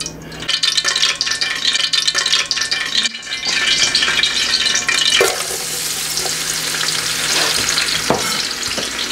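Onion fries in hot oil for Greek-style cabbage with rice, giving a loud, close, continuous sizzle with crackling and occasional stirring scrapes, and no voices.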